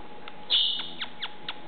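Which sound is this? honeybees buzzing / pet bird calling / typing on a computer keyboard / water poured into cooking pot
pet bird calling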